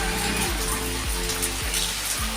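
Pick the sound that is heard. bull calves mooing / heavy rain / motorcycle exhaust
heavy rain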